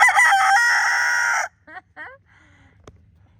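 A rooster named Mr. Roo on an off-grid homestead lets out one loud, close crow lasting about a second and a half, then a few short clucks and chirps follow, with a low rumble underneath.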